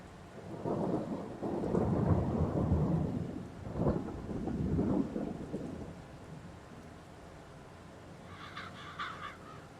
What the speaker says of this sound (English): it's starting to rain, which okay, it can rain all it wants